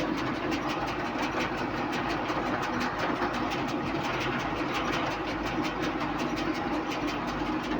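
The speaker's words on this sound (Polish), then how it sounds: "Powolutku się jedzie dwójeczką terenową" A tractor pulling a rotary mower moves slowly in low off-road gear, its engine giving a steady, continuous rumble with a fast rhythmic clatter running through it, close and constant, with no talking.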